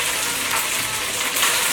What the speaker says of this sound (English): the pan is, and the oil is very hot. Sizzling.